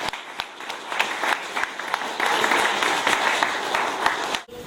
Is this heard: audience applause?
yes